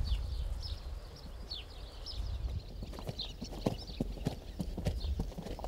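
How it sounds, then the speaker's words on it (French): Horse hooves clip-clop on hard ground at temporary stables, a steady uneven run of close knocks over a dense outdoor rumble, with birds chirping faintly above. "j'ai donc rejoint Marie Écart dans ses écuries provisoires"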